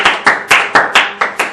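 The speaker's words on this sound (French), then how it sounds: "Est-ce qu'on peut acclamer Dieu?" A church congregation clapping together to acclaim God, seven sharp, evenly spaced claps in a steady rhythm with nothing else heard.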